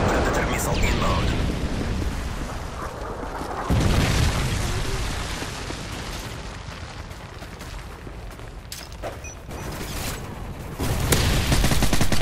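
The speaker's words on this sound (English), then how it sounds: "Airstrike standing by. Friendly airstrike on the way." Airstrike explosions and gunfire in the video game Call of Duty Modern Warfare 3, a dense, loud barrage of booms and rapid shots rolling on continuously, with heavier blasts around the start, middle and end, and game voices in the mix.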